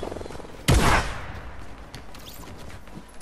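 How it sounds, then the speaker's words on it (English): Video game gunfire from a grenade launcher match opens with a single sharp, loud blast followed by a long decaying roar and a few faint distant pops fading out. "I'm getting shot at."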